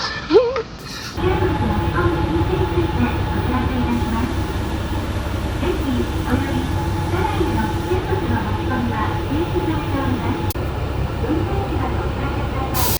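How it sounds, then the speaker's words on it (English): Small local train running toward Chiyatsu Station in Toyama, Japan: a steady low rumble and clatter of the carriage runs throughout, with a motor hum and faint voices in the cabin. "taking a small train to Chiyatsu Station"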